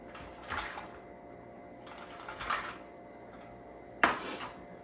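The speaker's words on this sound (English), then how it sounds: "So, chopping up these oranges." A knife chops through whole oranges with the peel on, cutting large pieces for a fire cider tonic: three separate, fairly soft chopping knocks against a board, close by, with no talk.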